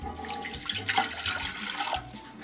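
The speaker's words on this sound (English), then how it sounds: "we're going to go ahead and add our water" Water poured into a bread machine pan, a short, close splashing trickle that swells and eases over a couple of seconds.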